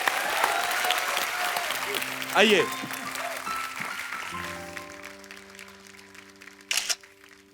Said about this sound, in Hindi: एक बार सुनिधि चौहान और हितेश के लिए जोरदार तालियां